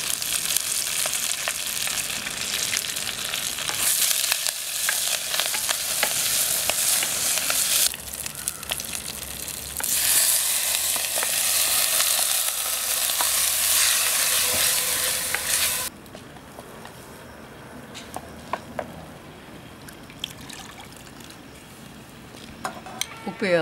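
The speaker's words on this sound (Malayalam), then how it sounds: "കടുക് പൊട്ടിച്ച് ഉള്ളിയും മുളകും ഇട്ട് മൂപ്പിച്ച് മുരിങ്ങര ഇട്ട് വഴറ്റി" Drumstick leaves with onion and chili sizzle and hiss in a pan for a Kerala-style curry, with steady stirring scrapes and utensil clinks throughout, loud and continuous before easing to a quieter sizzle near the end.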